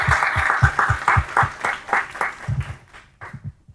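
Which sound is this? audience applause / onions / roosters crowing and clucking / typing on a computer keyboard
audience applause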